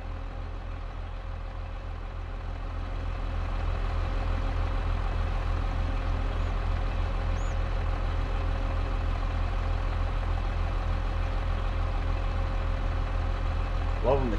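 A Case 400 tractor engine idles steadily close by, a low even drone that grows slightly louder after the first couple of seconds and then holds constant.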